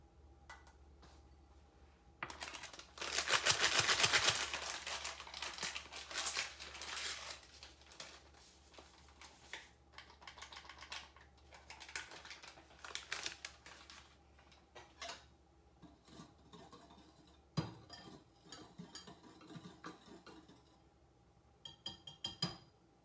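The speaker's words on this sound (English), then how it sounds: "you're going to want to whisk together your salt, your baking soda, and your pudding mix" Whisking dry salt, baking soda and pudding mix together in a bowl, a light, continuous clinking and scraping with a brisk, louder stretch early on, then irregular softer taps and patters.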